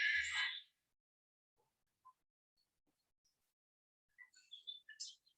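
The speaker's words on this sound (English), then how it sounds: "This is Seaside Sparrow." Seaside Sparrow song recorded in the field in Wakulla County, Florida: a short buzzy burst at the start, then near silence, then a thin series of high chips and trills near the end, faint and distant.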